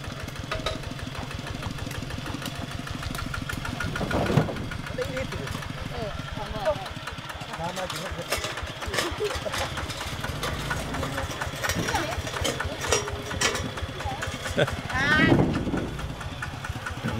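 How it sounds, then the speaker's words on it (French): Small engines, the same type used to drive tractors and large trucks, chug steadily in a village in northern Thailand, a rapid low rhythmic putter running throughout, with people talking over it and a louder surge near the middle and end. "Ils ont tous les mêmes moteurs ici."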